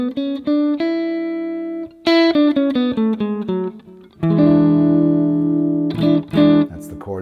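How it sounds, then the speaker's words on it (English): A chord for the Mixolydian mode comes after a few quick single notes, and then sustained chords ring out loud and close, ending with a short run of plucked tones. "That's the chord that goes along with Mixolydian."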